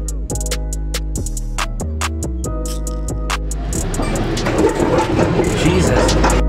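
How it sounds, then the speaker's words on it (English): Rhythmic tonal sounds repeat in short pulses, then give way to a louder, noisy rolling rumble of a train moving along rails, heard from onboard. "I'm on a train."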